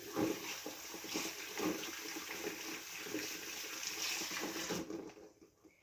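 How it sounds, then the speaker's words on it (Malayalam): Water poured steadily into containers in a home kitchen, a continuous close splashing rush that runs for about five seconds and then cuts off abruptly. "ഇതിനകത്തൊക്കെ വെള്ളം ഒഴിച്ചിട്ട് ഞാൻ കാണിച്ചു തരാം"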